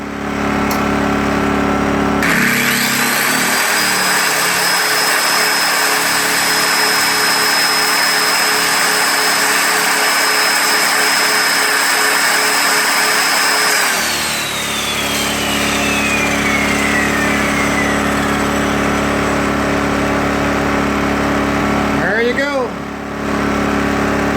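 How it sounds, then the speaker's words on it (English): A Sportsman GEN2000i inverter generator, rated 2200 max and 1800 running watts, drones steadily under load with a high whine for about twelve seconds, then spins down, leaving quieter background noise. "The Sportsman inverter generator, 2200 max watts, 1800 running watts."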